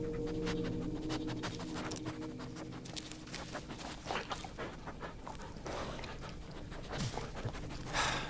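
A dog in the Blair Witch video game pants rapidly and sniffs around over a dense, noisy game soundscape with faint footsteps, close and steady throughout, with no speech.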